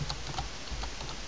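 Quiet keystrokes on a computer keyboard while text is typed into a word processor, a run of soft, irregular clicks with no voices.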